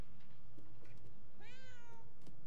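A cat in the video game Murdered: Soul Suspect gives one clear, drawn-out meow midway, heard close over a faint, steady ambient hum.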